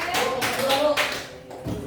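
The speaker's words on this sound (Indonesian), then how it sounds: "tepuk tangan dulu buat kelompok 3" Applause for a group of students in a classroom, a short burst of clapping with voices talking over it.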